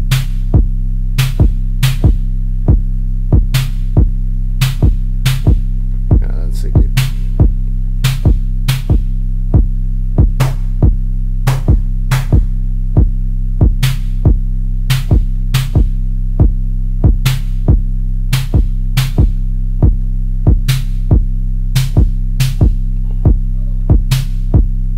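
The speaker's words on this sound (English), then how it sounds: "I frequency modulated the noise into the sine wave, which thus gets that tone that I have right now." A Tone2 Electra 2 software synth plays a sine wave frequency-modulated by noise, sounding as a loud steady low hum punctuated by a regular series of short sharp noisy hits, with no voice present.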